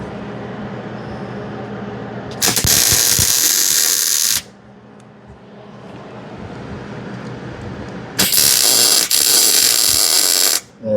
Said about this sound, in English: Let's get this bad boy welded up.